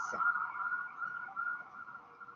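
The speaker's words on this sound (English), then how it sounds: "there is emergency vehicle passing by" A steady, loud siren wails continuously, a high sustained tone holding throughout with slight wavering as an emergency vehicle passes nearby.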